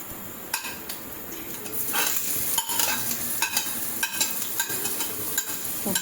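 Cloves, cardamom and a piece of cinnamon crackle in hot oil in a pan, a busy close-up sizzle broken by repeated sharp pops and utensil knocks at irregular intervals.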